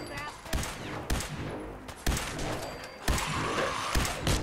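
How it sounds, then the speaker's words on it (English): Pistol gunfire in Fallout 4: several sharp shots spaced roughly a second apart, loud and close over a busy game background, with no talk. "Did I just shoot through his legs? I shot through his legs."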